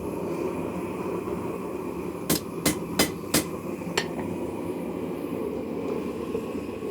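Five sharp, ringing hammer blows strike a railroad spike being forged into a knife blade on an anvil, evenly spaced over a couple of seconds and then one more, against a steady background hum of the shop.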